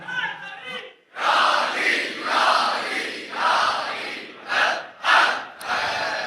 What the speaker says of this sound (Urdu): ابھی تو نعرے لگائیں گے